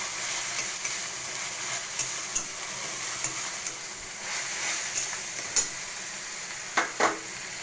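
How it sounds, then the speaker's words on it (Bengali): Garlic paste frying in a pan for red chicken, a steady soft sizzle with a few sharp spoon scrapes and clinks near the end, close and fairly quiet. "রসুন একটু ভাজা ভাজা করতে হবে।"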